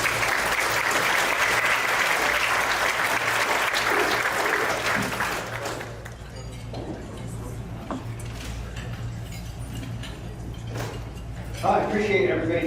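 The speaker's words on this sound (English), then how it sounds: "let's give him a round of applause and turn it over to him" Audience applause for a guest speaker at a water conservancy event, a dense steady clapping for about six seconds that then thins and fades into scattered claps and room noise, with a brief voice near the end.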